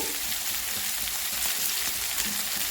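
Potatoes for aloo masala curry fry in a pan with a steady, dense sizzle close by, a continuous crackling hiss without pauses or voices.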